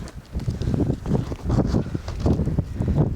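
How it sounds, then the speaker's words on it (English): Gusty wind buffets the microphone in uneven low rushes, rising and falling in strength throughout with no voices, by a marsh in the Swedish mountains with light drizzle. "It's windy, so it means it's a little bit cooler."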